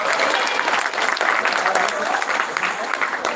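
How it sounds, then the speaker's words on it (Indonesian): A crowd at a school event for SMA 6 claps loudly for returning alumni, a thick burst of many hands with a few cheers, while a voice carries over the top. "Tepuk tangan untuk para alumni kita."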